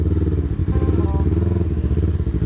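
A Yamaha R3 motorcycle fitted with a Tayaka quickshifter revs hard, its engine note dipping briefly between rapid gear changes, loud and close throughout.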